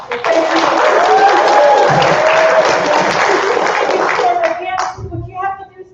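An audience at a summit in Texas applauds, a dense crowd of clapping that holds strong for several seconds before thinning out, with voices mixed in near the end.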